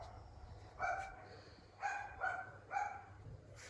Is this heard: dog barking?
yes